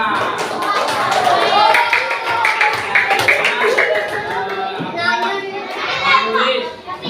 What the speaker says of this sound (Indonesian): silakan tepuk tangan kelompok 2